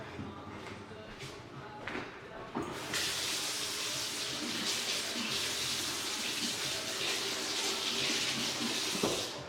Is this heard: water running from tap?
yes